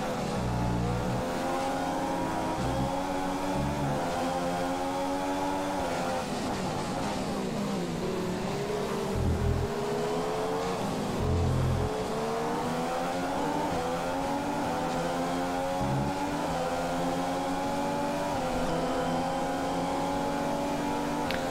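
F1 race car engine in the F1 2015 video game at the British circuit, a loud continuous high-pitched whine rising through repeated gear upshifts as it accelerates, steady and close throughout.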